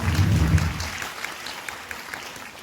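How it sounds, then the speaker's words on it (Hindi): An audience claps at a National Girl Child Day ceremony at the Dr. APJ Abdul Kalam Science City, starting as a dense burst of applause and thinning into scattered, fading claps. "तालियां हो जाए"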